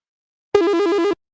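A stock phone ringtone plays from a device as one short, loud, rapidly trilling electronic burst lasting about half a second against silence.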